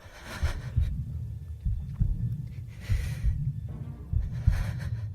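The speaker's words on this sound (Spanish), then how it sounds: "Un latido fuerte, errático, que parecía provenir de todas partes" A heartbeat sound effect in a Spanish audio horror story pulses low and heavy, repeating in an irregular, throbbing rhythm with breathy swells of noise between the beats, no voices.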